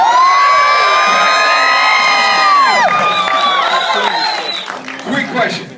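A crowd of fans screaming at a movie premiere in Miami Beach, loud sustained high-pitched shrieks and cheers that waver and then break up into scattered shouts.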